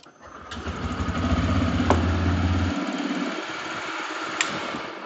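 A TVS Raider 125cc motorcycle engine catches and settles into a steady, low idle, loud and close, with a brief sharp click partway through and no talking.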